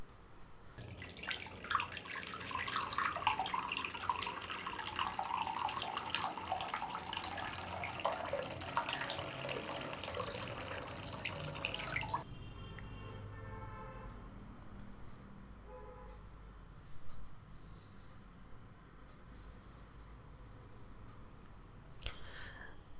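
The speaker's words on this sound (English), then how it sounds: "So we just try casual splash test for a minute." Water splashes and pours over a Nokia 8.1 phone during a splash test, a loud rushing spray for about twelve seconds, then quieter drips and faint handling noises.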